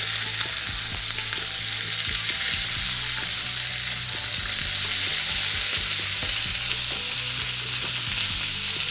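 Steady, loud sizzling of browned pork ribs frying in a pan, with occasional clinks and scrapes of a utensil as they are turned, continuous and close.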